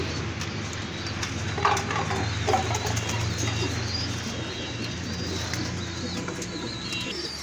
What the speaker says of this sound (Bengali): আমাদের কবুতরগুলা সবগুলো এক ঘরে নিয়ে আসছি